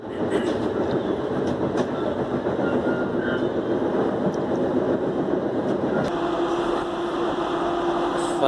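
A tram rolls steadily along the rails, a continuous rumble with faint rhythmic clatter and occasional squeaks.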